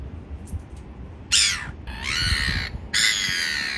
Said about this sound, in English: These are aggressive seagulls, man.